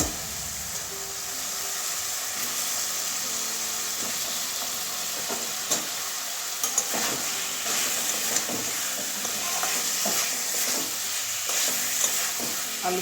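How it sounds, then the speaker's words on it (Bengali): Capsicum and boiled potatoes stir-fried in a pan for an egg curry, a steady loud sizzle under frequent spatula scrapes and taps, close up and without any voices. "ক্যাপসিকাম ভালো করে কষিয়ে নেব"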